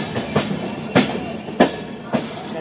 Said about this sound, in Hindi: दोनों ट्रेनें आपस में एकदम चटा के चल रही है, पैरेलल रन चल रहा है भाई